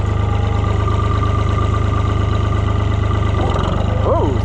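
A Cockshutt 1255 FWA tractor runs in second gear with a loud, steady low diesel chug close by. Near the end a brief rising whine cuts over the engine.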